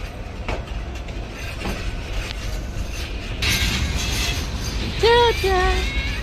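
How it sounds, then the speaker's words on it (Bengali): The Kurigram Express pulls out of Kurigram railway station bound for Dhaka with a rumbling, clattering roll. Near the end come two short wailing tones. "আমরা কুড়িগ্রাম রেলওয়ে স্টেশন পাড়ি দিচ্ছি অর্থাৎ কুড়িগ্রাম রেলওয়ে স্টেশনটা ছেড়ে যাচ্ছি"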